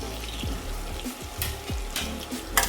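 Onions, curry leaves and green chillies fry in oil in a kadai, a continuous close sizzle broken by repeated scrapes and knocks of a spatula being stirred.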